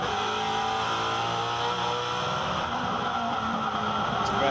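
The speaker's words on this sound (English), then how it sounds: "just hanging on to fourth gear there, Scafie, so you can hear the rev limiter," A 2012 V8 Supercar engine screams on the rev limiter in fourth gear during the Sydney 500 street race, loud and continuous with a steady buzzing drone and rapid limiter stutter.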